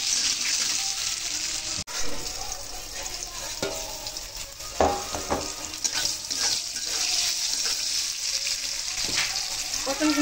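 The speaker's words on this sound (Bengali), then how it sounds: "পটলগুলো ভাজা হয়ে গেছে" Pointed gourd (potol) with salt and a little turmeric fries in a pan: a steady, loud sizzle runs throughout, with scraping stirs and short clatters breaking through and a brief drop near the two-second mark.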